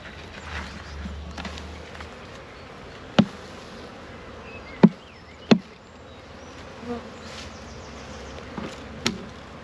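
Honey bees hum at an open beehive during an inspection, a low continuous buzz close by, broken by several sharp knocks and clicks from handling the hive boxes.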